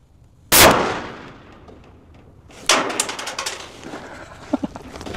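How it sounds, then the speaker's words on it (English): A .50 caliber rifle fired at a ball on an outdoor range gives one loud sharp close report that decays, followed a couple of seconds later by a second burst of impact and clattering noise. "We have our round of 50 cal ready to go."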